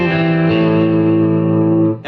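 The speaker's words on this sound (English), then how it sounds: "right now I have it set for vibrato" Electric guitar run through a Line 6 HX Stomp set to vibrato, a sustained chord ringing loud and steady with a wavering shimmer before it is choked off at the end.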